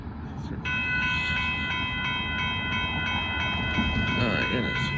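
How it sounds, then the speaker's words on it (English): Southbound Amtrak Texas Eagle passenger train approaching a crossing at Dittmar Road in Austin, Texas, with a loud steady rumble and a sustained multi-tone horn blasting close by, continuing throughout. "here comes Amtrak."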